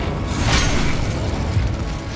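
An Incendio fire spell cast in the Hogwarts Legacy video game: a short whooshing roar with a low booming burst, loud and close over a dense mechanical game backdrop.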